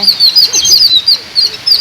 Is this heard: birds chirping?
yes